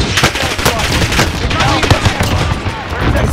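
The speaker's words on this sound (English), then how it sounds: "Sending a frag out." Gunfire and an explosion in Warzone Rebirth Island, with an M1918 B.A.R. and M1A1 Thompson, burst loudly and densely together, with rapid cracks layered over a continuous rumble.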